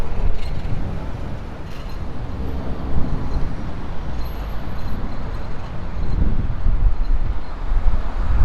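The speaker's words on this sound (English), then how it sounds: "that wind is really picking up" Strong wind gusts on a Midtown Manhattan street at night, a loud, constant roaring rumble buffeting the microphone and swelling in surges with faint traffic beneath and no talking.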